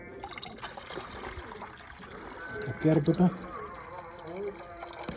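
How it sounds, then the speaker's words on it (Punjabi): Hot water is poured into a container, making a brief gurgling splash amid background noise, while people talk nearby. "ਤੇ ਪਾਣੀ ਪਾ ਦਿੰਨੇ ਆਪਾਂ ਇਹ ਚ ਗਰਮ ਗਰਮ"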